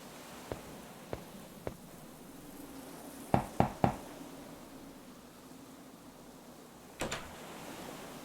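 Knocking on an old wooden door in a video game: a few light taps, then three quick firm knocks close together, and later a short double knock, over quiet background hiss.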